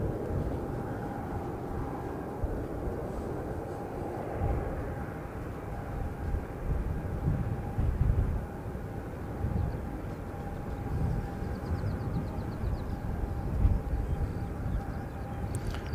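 A Qantas airliner approaching from the Melbourne direction, a steady low broadband roar with a faint high whine, sustained and moderately distant throughout.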